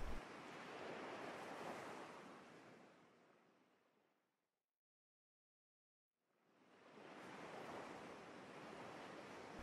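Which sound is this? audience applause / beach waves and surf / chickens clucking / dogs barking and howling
beach waves and surf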